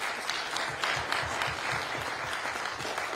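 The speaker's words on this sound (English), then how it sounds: "Y'all give this panel a big round of applause." Crowd applause for a panel at a 100 Black Men of America conference session, steady, dense clapping from a large audience with a few louder individual claps, sustained without pause.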